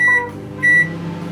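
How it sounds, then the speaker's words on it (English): A microwave oven softening butter in a small bowl hums steadily, and two short, loud electronic beeps sound close by. "So I'm going to pop this in the microwave."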